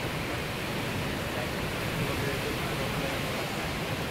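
A heavy rainstorm pours down in a thick, constant wash of falling water, loud and even from start to finish.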